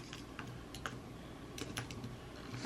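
Fingers tap quietly on a computer keyboard in short irregular bursts of light clicks, close by in a quiet room with no talking.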